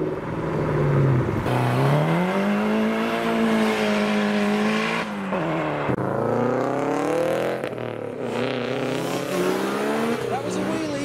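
An MG X-Power car pulls away from a car show, its engine revving loudly and close by in rising and falling sweeps, with people talking nearby.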